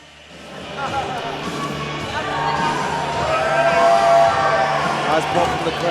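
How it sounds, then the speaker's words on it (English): Loud arena crowd at a Muay Thai event swells into cheers and whoops as a fighter walks out, building steadily over several seconds with shouts rising near the end. "Nice pop from the crowd too."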